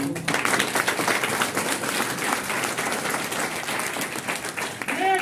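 A crowd at an indoor business seminar in Kolkata claps together in sustained, dense applause that fills the room for several seconds, loud and close, fading near the end as a voice returns.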